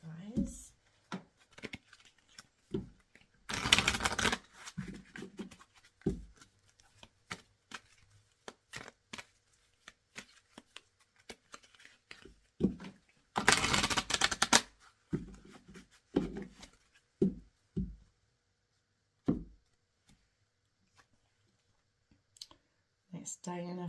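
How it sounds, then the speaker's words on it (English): Tarot cards are shuffled and pulled, making bursts of rapid riffling and scattered clicks and snaps, with quiet gaps between them. "Let's pull some more cards here for you guys."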